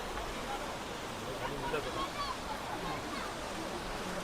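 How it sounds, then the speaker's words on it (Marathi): A large waterfall roars as a constant, broadband rush of falling water, with a voice talking faintly over it. "हा बघा हा मोठा आहे धबधबा इकडे खूप मोठा."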